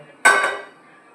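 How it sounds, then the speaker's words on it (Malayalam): A metal pan set down on a stove with a single sharp clank that rings briefly and fades, close and clear. "അപ്പോൾ പാൻ വെച്ചിട്ട് കുറച്ച് ഓയിൽ ഒഴിച്ച് കൊടുക്കുക"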